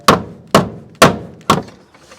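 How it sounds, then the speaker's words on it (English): Four sharp hammer blows strike a replacement car fender packed with Bondo, on an Ae92 car, landing evenly about half a second apart, each a loud close thwack with a short decaying ring and no talk. "We're gonna keep hitting it with a hammer."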